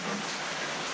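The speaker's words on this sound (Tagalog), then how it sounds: "Ulan lang." Steady rain falls during the first tropical depression of 2023 in the Philippines, a dense, even hiss of downpour with no wind or voices, moderately loud and unbroken.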